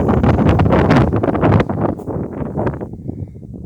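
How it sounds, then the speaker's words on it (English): Strong wind buffets the microphone outdoors at a trebuchet being set up, loud and continuous at first, then easing into lighter gusts, with no talking. "God, I hate this wind"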